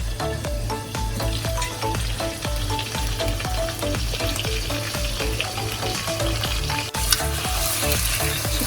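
Green chilli chicken cooks in a covered pan with a steady, close sizzle and crackle under a low constant hum, continuing without pause and with no talking.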